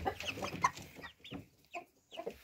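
Several young chickens, six hens and one rooster, cluck in short, irregular bursts, fairly close by, with brief quiet gaps between the calls.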